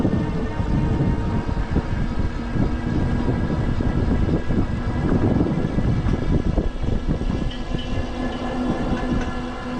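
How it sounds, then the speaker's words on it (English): A Velotric Triker electric trike climbs a hill with a steady motor hum and a rumbling road drone that hold even and fairly loud throughout, with no talking. "The motor noise, I definitely hear it."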